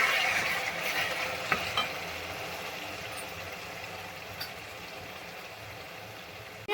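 Tomato and onion masala stirred and frying in a pan at home, a steady soft sizzle with scraping stir strokes and a couple of sharper clinks, no talking.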